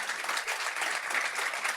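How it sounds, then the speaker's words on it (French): Steady applause from a studio or live-show audience, dense and continuous for a couple of seconds with no distinct single claps standing out, the clapping holding even without a break. "On va t'applaudir."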